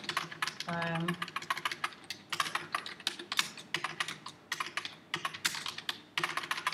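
Rapid bursts of typing clatter on a computer keyboard, close and fairly loud, in irregular runs with short pauses, and a brief tonal voice-like sound early on.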